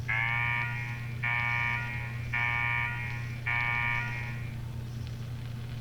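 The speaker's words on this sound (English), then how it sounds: "What the hell is that alarm?" A blaring alarm in the video game Fallout 4: Nuka World, four long, harsh buzzing blasts in steady repetition over a constant low hum, the last one fading out, with no talk.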